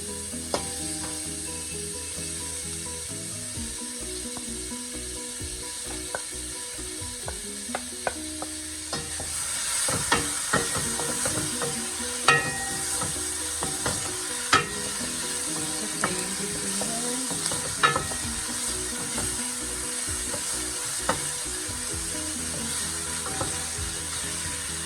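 Ginger frying in a pan while being stirred, a constant hiss of sizzling oil with scattered spatula scrapes and taps growing busier partway through, heard up close with no voices.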